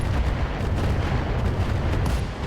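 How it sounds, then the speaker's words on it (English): A mech's SRM ammunition detonating as it is destroyed in the BattleTech game RogueTech, a loud, sustained rumbling blast heavy in deep low-end boom that rolls on for a couple of seconds without pause. "But that's actually a dead Orion. SRM ammo explosion."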